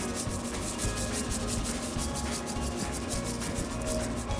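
A salt-pepper mixture being rubbed onto boneless country pork ribs, giving a continuous close scratchy rubbing with rhythmic strokes and no talk.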